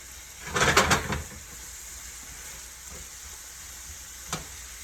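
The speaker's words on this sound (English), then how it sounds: "So I used about four fresh cloves. I'm gonna throw that in there. Okay, give it a good mix." About four fresh garlic cloves dropped into a hot pan, bursting into a loud sizzle that fades quickly, followed by quiet frying and a single clack of the spoon.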